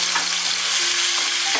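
Tomato puree sizzles in hot olive oil in a pan, a steady, close, fairly loud crackling hiss that runs without a break and with no voices.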